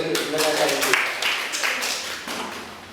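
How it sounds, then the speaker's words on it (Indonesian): Scattered classroom clapping from students in a junior high lesson, a few uneven bursts of hand claps with taps and thumps, voices mixed in around them. "Ya, tepuk tangan dong."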